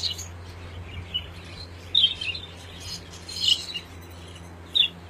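Red-eyed hagoromo budgies give short, faint chirps in a few separate bursts over a low, steady background hum.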